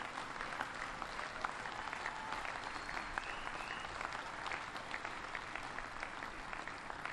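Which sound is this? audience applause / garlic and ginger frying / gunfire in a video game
audience applause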